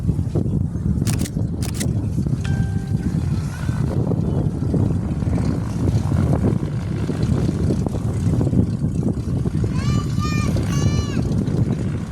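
Propeller aircraft such as a Cessna 172 at Jandakot airport, a steady broadband engine drone running throughout at moderate distance, with some brief higher tones and chirps over it.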